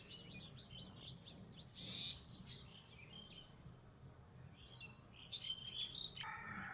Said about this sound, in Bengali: সকালবেলা মুরগির ডাক পাখির কিচির মিচির তো শুনতে ভালোই লাগে